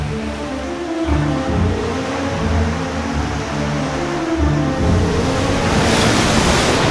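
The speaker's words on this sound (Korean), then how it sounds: "잠시 후 파도가 거세지고 비바람이 몰아치기 시작했습니다" Rough sea waves churn under driving wind and rain as a radio drama sound effect, a dense, steady roar with rolling surges and no voices.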